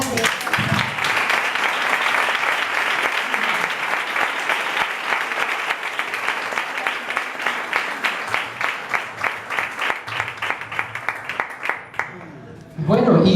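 An audience at a book presentation breaks into loud, sustained applause that fills the room, thinning toward the end into scattered individual claps before fading out.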